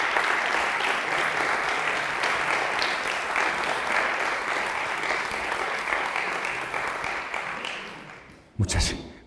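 A church hall audience in León applauds for about eight seconds, a dense, steady clatter of many hands that fades gradually, then a brief louder thump at the end.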